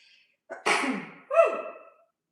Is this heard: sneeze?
yes